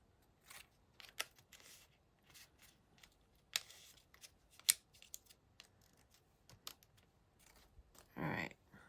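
Scissors snip out damp paper pieces for card making in a series of short, quiet crisp cuts and rustles, with a louder extended snip near the end.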